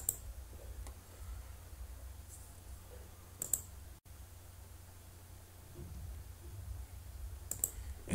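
Sparse keystrokes on a computer keyboard enter an unzip command on FreeBSD, a few faint clicks scattered over steady room hiss with no talking.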